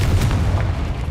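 A Confringo fire spell explodes in the video game Hogwarts Legacy, a loud sustained low boom rumbling for about a second with no voices over it.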